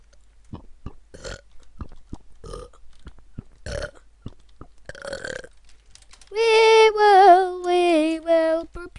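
A long, loud burp with a wavering, croaky pitch rises out of a stretch of scattered clicks and short noises during a Minecraft Capture the Wool match, holding for about two and a half seconds before ending.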